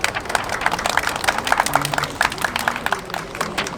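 A crowd claps together at an outdoor protest rally, a steady patter of many hands lasting a few seconds, moderately loud with no talking over it.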